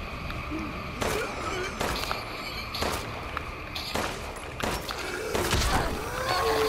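Gunshots from Resident Evil Village on hard mode ring out as a series of sharp, loud bangs spaced roughly a second apart, with game ambience and impacts between them.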